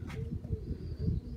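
Pigeons coo in a dovecote, a few soft, low throaty coos close by in short repeated bursts, with a brief higher chirp.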